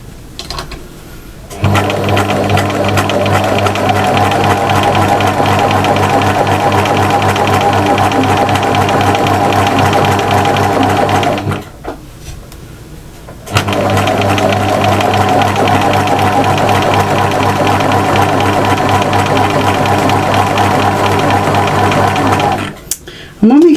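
Domestic sewing machine stitching an applique mushroom house cushion across the roof, a loud steady mechanical whirring hum in two long runs separated by a short pause, with a brief click at the end.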